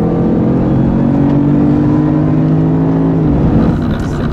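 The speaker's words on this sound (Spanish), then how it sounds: "ahora sí puedes empezar a acelerar" A Jaguar car accelerates on a driving-academy track, its engine note loud and close as steady harmonic tones hold and then shift toward the end of the run.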